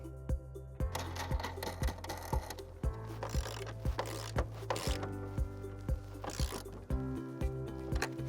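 A ratchet tightens two 10mm fasteners on the tail light of a 2013-2020 Ford Fusion, giving a steady series of sharp, close clicks in even rhythm over a low background hum, with no talking.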